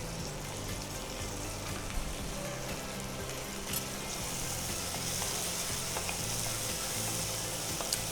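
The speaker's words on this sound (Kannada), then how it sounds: "ಸೊ ಇಲ್ಲಿ ಹಸಿಮೆಣಸಿನ್ಕಾಯಿ ಮತ್ತು ಈರುಳ್ಳಿ ತಗೊಂಡಿದ್ದೀರಿ, ಫ್ರೈ ಮಾಡಬೇಕು ಸರ್." Green chillies and onions frying in hot oil for aloo manchurian, a steady, dense sizzle that holds at an even level throughout with no voices.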